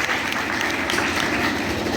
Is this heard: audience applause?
yes